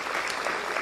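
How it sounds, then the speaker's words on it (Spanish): Audience applause at a lecture on social change from a Gestalt perspective, a dense, steady wash of many hands clapping close by, filling the whole brief moment without any voices. "Gracias por los aplausos."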